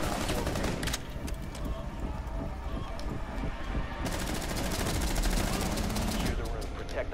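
Rapid bursts of video game gunfire from a player's weapon, dense and loud, rattling almost continuously with brief lulls, with a voice audible underneath.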